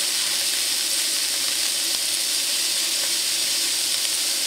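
Vegetables and short-rib drippings sizzle in a pan over low heat, giving a steady, even hiss and fine crackle that runs unbroken throughout with no talking.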